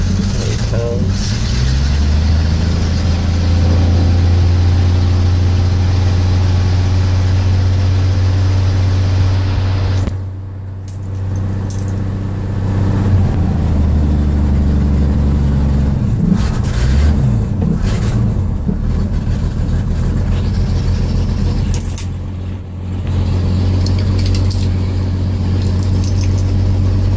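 A Chevrolet Stovebolt engine idles after a cold start without choke, a loud, steady low rumble that runs throughout, with brief lulls and mechanical clatter.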